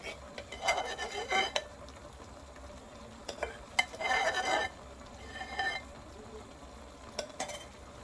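Bottle gourd and dal stirred in a metal pot, with scraping, clinking strokes in a few short bursts separated by quiet gaps, close and moderately loud.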